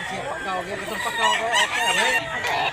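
A rooster crows loudly and close by in a rural Cebu setting, one drawn-out call with a wavering, rising-and-falling tone lasting nearly three seconds.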